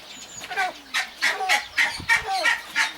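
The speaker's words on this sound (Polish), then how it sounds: "tam coś się gąski mi wydzierają" Geese honk loudly and close by, with around seven harsh calls in quick, uneven succession.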